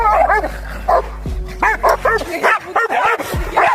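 A Cane Corso, a huge dog breed, barks repeatedly in loud, close, irregular bursts mixed with yips and a whimper, over a low background hum.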